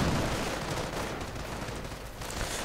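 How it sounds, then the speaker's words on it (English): Dense, continuous battlefield gunfire from the real-time strategy game Company of Heroes, in a 2v2 match of US forces against Wehrmacht and Panzer Elite; steady heavy rattle and rumble throughout, fairly loud, with no voice. "They're running into quite some heavy fire and are quickly suffering losses."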